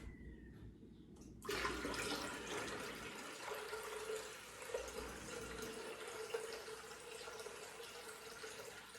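Lemonade detox drink poured steadily into a container, filling up to two quarts, a continuous rushing liquid stream that starts abruptly and runs without pause.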